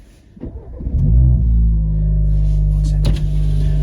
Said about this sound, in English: Right, start the car. Clutch down.